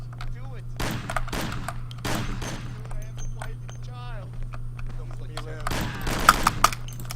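Rapid bursts of gunfire in the crime action game Mafia, with several sharp clusters of shots spread across the stretch over a steady low hum, and a voice talking in between.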